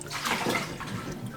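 About 2.5 quarts of water pours into a cooking pot for Japanese katsu curry, a continuous rushing splash that holds steady for just over a second with no voices.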